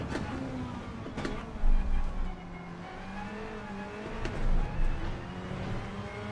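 A Toyota TS020 GT-One Le Mans racer in GT7 whines at high revs, dropping and climbing through gear changes, with low thumps and bumps under the steady engine note.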